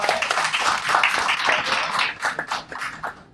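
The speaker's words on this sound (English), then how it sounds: "so please a huge round of applause for Pedro." A crowd claps and applauds steadily for a few seconds, a dense patter of many hands without voices.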